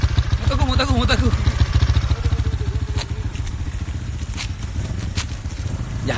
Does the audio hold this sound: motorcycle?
yes